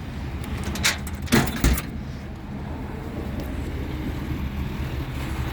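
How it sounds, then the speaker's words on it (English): A truck door slides and bangs shut in a few quick, close knocks near the start, followed by a low steady rumble of engine and outdoor noise. "I have to figure out how to shut this door."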